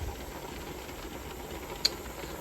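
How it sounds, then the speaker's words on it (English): Steam hissing steadily from the vent of a pressure canner while canning carrots, a constant broadband rush with one faint tick near the end. "steady stream of steam coming out of the vent"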